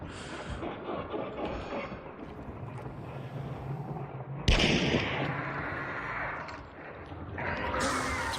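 Gunfire in an online shooter video game, bursts of shots and sharp reports from one direction amid game noise, with a loud blast partway through.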